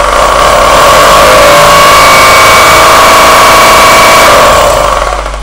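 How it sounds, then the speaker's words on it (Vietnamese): A Bosch hammer drill for concrete, a Japanese-market 100V 500W three-function tool, runs continuously at close range as a steady, loud motor whine with a rattling hammer buzz, easing off slightly at the end. "đây chiếc năng khoan búa khoan bê tông này nè"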